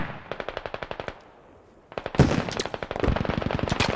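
Rapid automatic gunfire in the video game Squad, a burst of evenly spaced shots, a brief pause, then heavier overlapping bursts with a loud impact, continuous and close.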